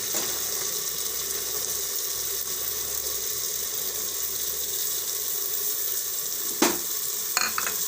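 Toor lentils sizzle in hot oil with tomatoes in a home kitchen, a steady close hiss that runs throughout, broken near the end by a couple of brief clatters.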